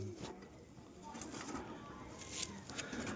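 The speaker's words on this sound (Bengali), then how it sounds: "আজকে প্রথম বাইরে ছাড়লো কবুতর, তার কারণে কবুতর এত ছটপটি করছে।" Teddy and golden pigeons let out for the first time, soft cooing and restless fluttering over a steady hum, faint and close.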